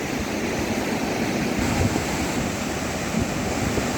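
A flooded river at Khairna surges in heavy rain, making a loud, continuous broadband roar of rushing water with no breaks.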